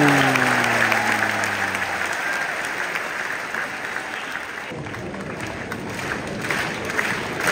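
Spectators at the Wimbledon final break into sustained, dense applause after a third-umpire decision on a point, a thick wash of clapping with crowd murmur that continues throughout.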